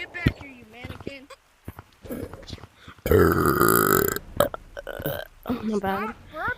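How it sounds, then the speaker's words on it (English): A long, loud, gravelly belch rolls out for about a second in the middle of chatter during an online multiplayer game, with lively voices talking before and after it. "Stop burping"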